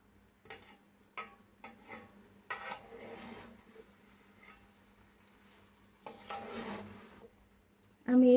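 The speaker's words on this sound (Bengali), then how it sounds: "10 মিনিট এটা তেলে সিদ্ধ হতে দিলাম" Spice-coated mango pieces with onion cook in oil for a pickle, a quiet low sizzle with intermittent stirring scrapes and clatters, then a loud thump at the end.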